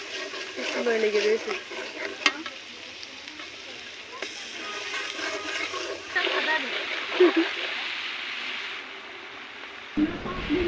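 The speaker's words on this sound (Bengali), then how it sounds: "এবারে ভালোভাবে কষিয়ে নেব।" Steady sizzle with soft scraping of a spoon stirring garam masala, chilli powder and Maggi masala in a hot pan, a voice talking quietly over the cooking.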